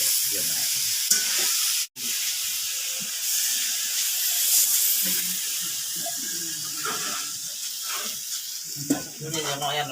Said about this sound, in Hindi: जो चूल्हा के ऊपर कढ़ाई में बन रहा है उसको खिचड़ी में मिलाया जाएगा